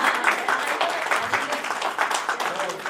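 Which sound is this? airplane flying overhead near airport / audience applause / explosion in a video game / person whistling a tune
audience applause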